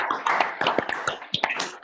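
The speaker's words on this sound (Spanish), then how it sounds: "le demos un gran aplauso a Luis Manuel Guerra" Audience applause for chemist Luis Manuel Guerra after a talk on the consequences of new US environmental policy for Mexico, a moderate burst of hand claps with sharp individual smacks standing out, fairly close and continuous throughout.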